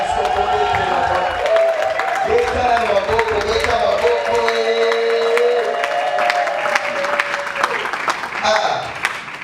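An audience applauds at a religious wedding ceremony, steady clapping with some cheering running nearly unbroken for the whole stretch, mixed with voices and tonal sounds that may be singing or music.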